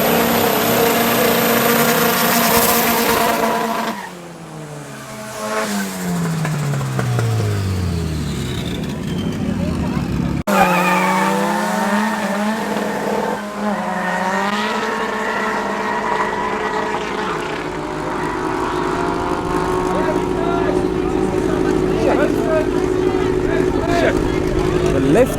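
Two turbocharged Mark 1 Golf cars race on a street drag strip, their engines roaring and rising in pitch as they accelerate and pull away. Loud commentary from an announcer runs over the sound throughout.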